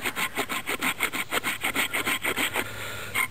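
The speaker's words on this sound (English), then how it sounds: "So I'm going to score this out and test this saw." A hand saw scoring a line around a piece of wood to shape a hammer head, with rapid rhythmic back-and-forth rasping strokes, about a dozen in quick succession, close and clear with no talk.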